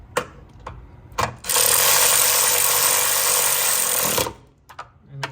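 A power tool tightening a bolt in the engine bay of a Honda S2000, a few short blips, then a loud sustained buzzing whir lasting about three seconds, followed by brief clicks and handling noises.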